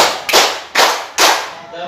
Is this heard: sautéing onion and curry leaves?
no